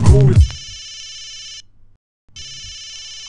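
Telephone bell rings in a hip hop track: a bright electronic ring in two bursts separated by a brief gap, loud and up front, following a vocal line at the start.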